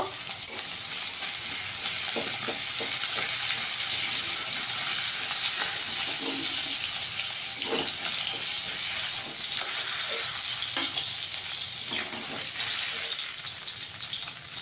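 Hot oil sizzles around frying hilsa fish, a steady close hiss broken by scattered pops and small spatters, with no one talking.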